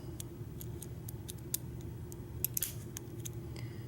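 Small sharp metallic clicks and ticks come from picking a pin-tumbler lock, with one louder click standing out over a low steady hum, close and quiet.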